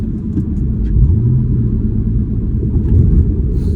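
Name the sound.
car engine revving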